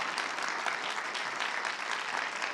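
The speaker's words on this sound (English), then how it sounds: "I would love to give him a round of applause out there." At a Wall Township school board meeting, a room of attendees gives a steady, moderately loud round of applause for an absent honoree, with no voices heard.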